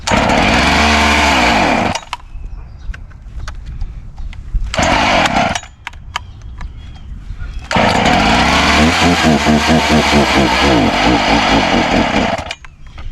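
Chainsaw roaring loud and close in two long bursts separated by a stalled, sputtering gap, after sitting unused for months, during mountain fence repair work.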